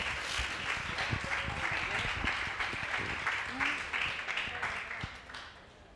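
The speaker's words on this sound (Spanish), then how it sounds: "aplaudan, aplauso, aplauso" A crowd applauds for several seconds, steady clapping mixed with a few voices, fading slightly toward the end.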